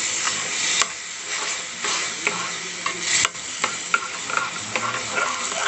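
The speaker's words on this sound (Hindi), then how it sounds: "अब इसको हमने चलाना है अच्छे से" Halwa with milk and sugar is stirred in a pan, a steady close scraping and swishing over a continuous sizzle, with occasional sharper clinks of the spoon against the pan.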